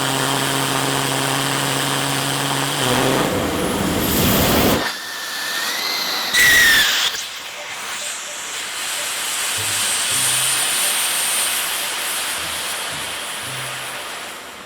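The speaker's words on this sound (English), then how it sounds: "so I gave it another go, this time full throttle." A 3D-printed, metal-plated ceramic rocket engine runs at full throttle with a loud, roaring hiss. Abrupt cutoffs and restarts break it up before it settles into a sustained rush.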